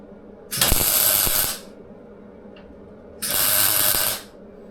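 Two short welding bursts as a Front Runner gas bottle mount for a Land Rover Defender 110 camper is tacked in place. Each crackling, hissing burst lasts about a second and is close and loud, with quiet between them.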